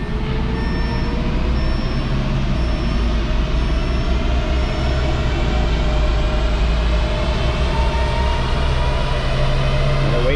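A 2015 Audi S3 with an APR Stage 1 tune runs up toward 100 mph on a dyno, giving a loud, steady drivetrain drone and roar that holds for about ten seconds with no voices.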